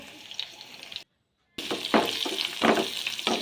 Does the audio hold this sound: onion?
yes